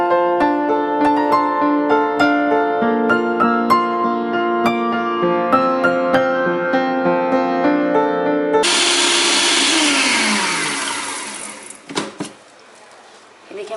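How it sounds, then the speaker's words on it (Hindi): An electric chopper whirs loudly as it chops drained spinach, a sudden harsh high grinding burst that starts partway through after gentle tonal background music and stops with a couple of clunks near the end. "ये जो पालक मैंने ड्रेन की थी ना, अब इसको मैं चॉप करने लगी हूँ चॉपर में।"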